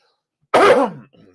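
One close, raspy cough, a harsh single burst that trails off into a soft throaty rasp in an otherwise quiet room.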